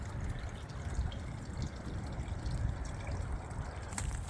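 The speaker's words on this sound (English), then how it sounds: "that's draining the water out because it's low tide" Water trickles and gurgles steadily out through a hole in a hurricane-wrecked boat at low tide in Matlacha, a faint continuous dribble with no talking.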